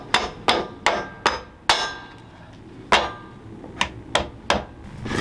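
A hammer drives loose wooden wedges on a support pad tight with about ten sharp, ringing blows in uneven clusters, close by, with no one speaking.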